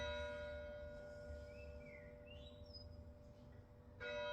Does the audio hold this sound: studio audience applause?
no